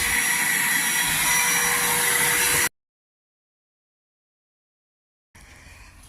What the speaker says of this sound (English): That's a full-on aircon.